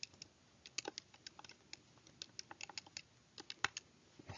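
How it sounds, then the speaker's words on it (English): Typing on a computer keyboard, a steady run of crisp, irregular key clicks with a few louder taps, close and alone with no talking. "when I type that in, we should probably type that in"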